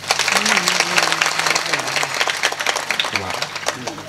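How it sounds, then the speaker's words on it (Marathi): An audience claps steadily together at a Marathi kirtan, dense rhythmic applause filling the hall while a voice carries over it. "कमीत कमी तुम्ही टाळ्या वाजवायचं तर काम करा"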